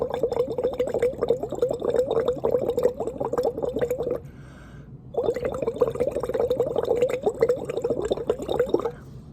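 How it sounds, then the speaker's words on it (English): Breath blown through a straw into lime water, making continuous close bubbling and gurgling in two long bursts separated by a short quiet pause. "I'm going to take a straw and I'm going to blow into it"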